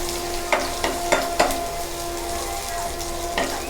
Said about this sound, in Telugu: కొంచెం జీలకర్ర అండి, మనం కచ్చా పచ్చాగా దంచుకున్న వెల్లుల్లి, ఇవన్నీ బాగా వేగించుకోవాలండి.